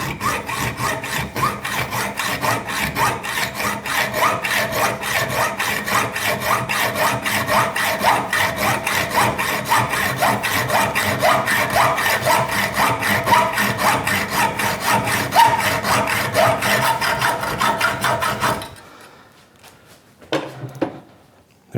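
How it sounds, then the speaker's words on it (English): A hacksaw cuts slowly through a piece of tool steel in fast, even strokes, a harsh rasping that runs nonstop up close for most of the clip, then breaks off into a few scrapes and knocks. "So the hacksaw will get the job done. This is tool steel, so it's a little bit tough, and so it's cutting slowly and bouncing out of the groove."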